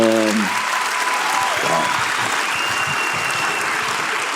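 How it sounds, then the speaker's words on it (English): Audience applause at a talk, a steady wash of clapping after a brief voice at the start, continuing evenly to the end. "Can I clap?"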